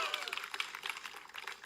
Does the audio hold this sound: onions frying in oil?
no